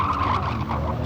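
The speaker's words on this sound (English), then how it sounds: "Squeal of tyres as they make their way through the right-hander" Tyres squeal loudly as rallycross cars race nose to tail through a right-hander at a 1994 European Rallycross Championship round in Holland, a sustained screech over roaring engines with no talking.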